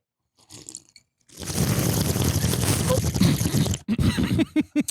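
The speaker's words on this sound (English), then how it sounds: "That's where you slurp it a little." A wine taster draws wine through the front teeth to aerate it: a loud, sustained airy slurp lasting a few seconds, followed by a few short close mouth and swallowing noises.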